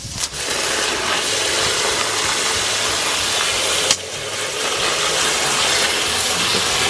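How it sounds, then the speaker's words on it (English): A garden water hose sprays steadily and loudly while rinsing LECA clay balls in a bucket, a continuous broadband hiss with one brief break in the middle and no talking. "a water hose and I'm going to get that turned on"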